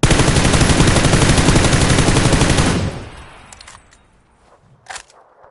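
Loud, sustained automatic gunfire in the battle royale game PUBG, a dense rapid burst lasting about three seconds before cutting off, leaving quieter ambient game noise and a faint thud near the end.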